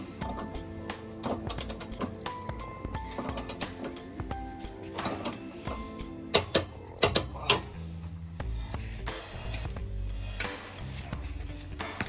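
A torque wrench ratcheting on crossmember bolts during a rear differential brace install on a widebody FRS, rapid mechanical clicking in bursts with a few sharper metallic clunks near the end, close-up with no talking.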